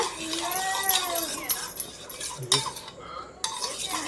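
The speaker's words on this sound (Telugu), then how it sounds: "ముందుగా ఈ పెరుగుని మంచిగా గిలకట్టుకోవాలండి, గడ్డలు లేకుండా" A spoon whisks yogurt smooth in a bowl for a simple raita, with repeated clinks and scrapes against the dish, some louder strokes near the start and brief pauses between bursts.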